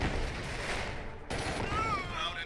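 Rapid gunfire rattles on steadily in the C&C Tiberian Sun battle, a dense continuous crackle with a brief dip midway and a synthetic game voice over it.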